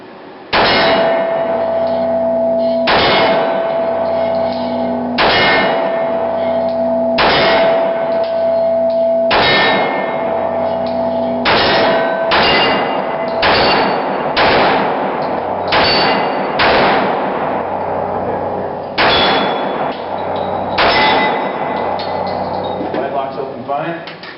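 Glock 41 .45 ACP pistol firing Magtech, Winchester white-box and PMC ball ammunition, about a dozen loud, sharp shots at an uneven pace, each followed by a ringing metallic clang from a steel target.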